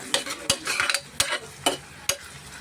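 Sliced cucumber-curry base frying in a pan, a steady sizzle broken by several sharp scrapes of a spoon stirring against the metal, close and fairly loud.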